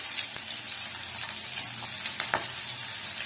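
Potatoes fry in hot oil with a dense, steady hiss and crackle, close up, broken by a few sharp spatters and light stirring clicks.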